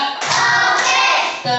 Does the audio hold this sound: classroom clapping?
yes